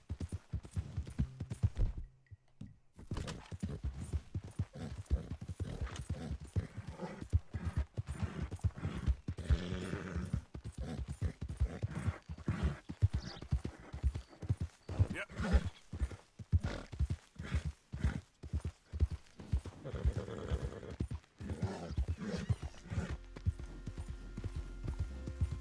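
Steady rhythmic clip-clop of hooves from a horse at a trot in a video game, continuous and fairly close, with occasional faint background sounds.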